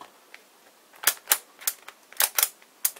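A Skewb-type square puzzle cube being turned, giving sharp isolated clicks, single and in quick pairs, close and crisp against near silence, with no talking.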